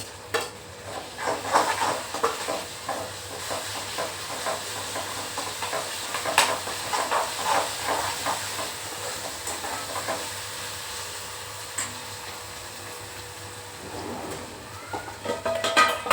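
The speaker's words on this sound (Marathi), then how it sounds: "आता ना आपल्याला आलं लसणाची पेस्ट टाकायची गॅस फास्ट करायचं चांगली परतून घ्यायची आहे" Ginger garlic paste frying with onion and tomato over a high flame for a prawn curry, a steady broad sizzle with stirring scrapes and clatters running throughout, close and fairly loud.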